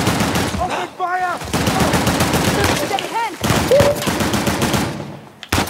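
Gunfire during an ambush in the video game Uncharted: The Lost Legacy: rapid, loud bursts of shots crackle throughout, with shouted voices rising over the firefight.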